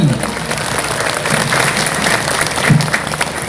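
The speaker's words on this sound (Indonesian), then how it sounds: "Tepuk tangan ya Pak Bupati" Steady applause from a crowd at a large Islamic sermon gathering in Majenang, Indonesia, dense continuous clapping that holds at the same loudness throughout.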